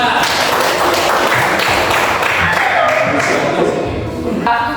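A classroom of students claps for a group's finished work, a dense, steady patter of applause filling the moment with no speech over it.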